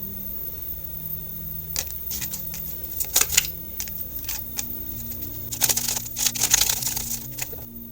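A deck of cards gets shuffled in several quick crisp riffling bursts separated by short pauses, close and fairly clear against a quiet background.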